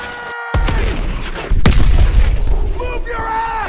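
Incoming artillery shells explode in a Call of Duty WWII Battle of the Bulge winter battlefield, a heavy boom hitting loud and close after a moment of quiet, followed by rumbling blasts and gunfire under shouting voices.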